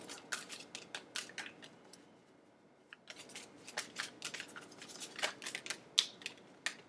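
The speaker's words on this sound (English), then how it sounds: "2 more shuffles." Tarot cards are shuffled in quick bursts of crisp riffling and snapping, close and fairly quiet, with a brief pause midway.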